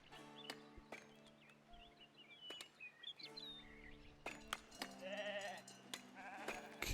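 Sheep bleat faintly in a medieval city-building game, a few short wavering calls over quiet ambient game sounds, with scattered clicks, hoof-like taps and bird chirps.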